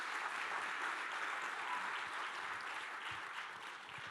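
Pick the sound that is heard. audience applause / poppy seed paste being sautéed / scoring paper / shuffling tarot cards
audience applause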